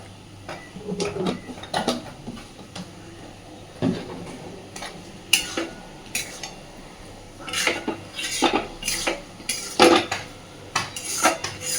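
A spoon scrapes and clanks against a pot while a banana-stem and lentil dish with a little ghee is mixed, the sharp metallic knocks coming in irregular bursts over faint background noise.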